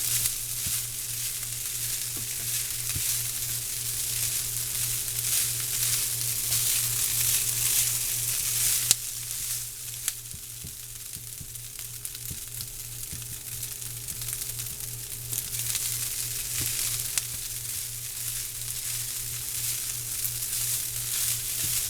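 Rice being stir-fried on a home stove, a constant soft sizzle with a low steady hum underneath and occasional faint scrapes from stirring, fairly quiet and unbroken, no one speaking.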